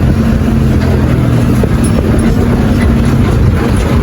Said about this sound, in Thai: รถไถครับ